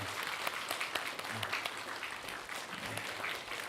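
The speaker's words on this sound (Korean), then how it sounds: "앞으로 더욱더 건강하시라고 우리 박수로 격려 한번 하겠습니다." A church congregation claps together at a Sunday worship service in a dense, steady round of applause that holds at an even level from start to finish.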